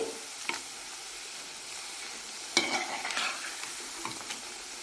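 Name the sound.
onion pakoda frying in oil, being turned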